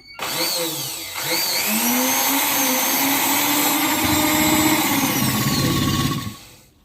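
A sewing machine stitches a six-panel petticoat, its motor running in a steady continuous whir that starts after a brief pause and holds for several seconds before cutting off.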